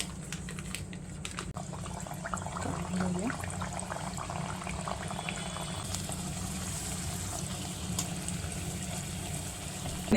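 Kombdi vada, puffed fried breads made from bhajani flour dough, sizzling in hot oil, a steady low crackling and bubbling hiss that continues evenly throughout.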